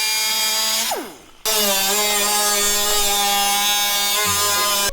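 A power tool cutting a Jeep hood and throwing sparks gives a loud, steady, high-pitched whine. It winds down sharply, then starts again at full speed and keeps cutting close by.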